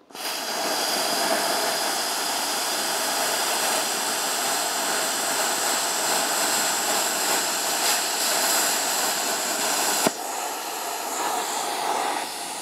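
A BestArc BTC500DP plasma cutter runs at 35 amps and 55 psi, cutting metal with a loud, steady roaring hiss that holds evenly for about ten seconds, then a sharp click and a brief drop before the hiss resumes, no talking.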